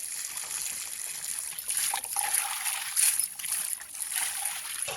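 Cold spring water trickles and splashes from a pipe into the ground outdoors, a soft, steady running sound with brief louder splashes, heard close and alone.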